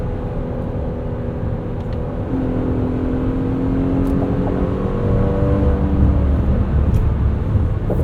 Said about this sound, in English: 9-speed auto shifts quickly at the rev limit.